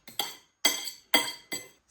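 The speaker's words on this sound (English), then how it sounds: "Whisk it all together" Egg and sugar mixture for French toast being whisked in a bowl, heard as four sharp clinking strokes of utensil against dish, spaced about half a second apart, close and fairly loud with no talk.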